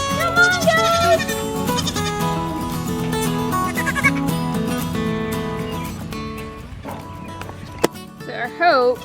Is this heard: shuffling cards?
no